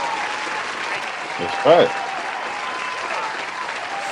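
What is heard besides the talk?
audience applause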